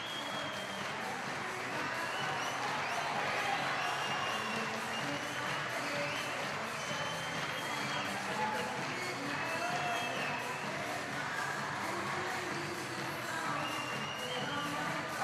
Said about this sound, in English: The crowd are going completely wild.